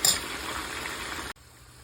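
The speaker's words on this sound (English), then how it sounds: "There's some hot oil. All right, I'm gonna let those fry up." Homemade potato chips sizzling in hot oil, a steady bright crackle and hiss that cuts off abruptly near the end, leaving a quiet background.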